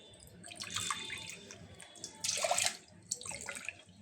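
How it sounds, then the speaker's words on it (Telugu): Water poured onto washed toor dal for spinach dal, a splashing, gurgling pour in a couple of bursts, near and moderately loud, with no talking. "3 గ్లాసులు నీళ్లు పోసుకోవాలి"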